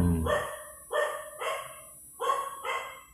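Five sharp dog barks, loud and close, arriving in an uneven pattern: one, a pair, then another pair after a short pause.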